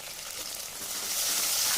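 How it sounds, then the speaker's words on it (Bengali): Ground onion paste hits hot oil in a pan for a Bengali egg curry, producing a steady, close, loud sizzle that swells slightly toward the end, with no voices. "পেঁয়াজ দুটো ঢেলে দিলাম"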